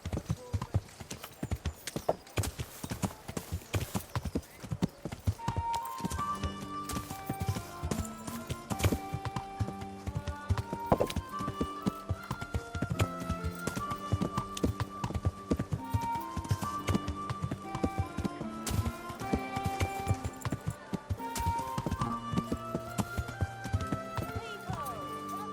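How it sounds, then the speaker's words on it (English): Horse hooves clip-clop in a steady riding rhythm in the medieval game Kingdom Come: Deliverance, set under a continuous layer of music and occasional voices. "Learn how to ride a horse."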